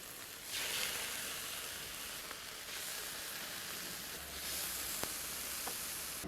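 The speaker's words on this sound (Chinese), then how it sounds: "那个鸡排不用腌哈，好方便，扯开就烤。 把鸡腿那些也烤到边边上。" Chicken cutlets and drumsticks sizzle on an oiled barbecue grill, a steady close hiss of frying fat running throughout with a few small pops and crackles, no talking.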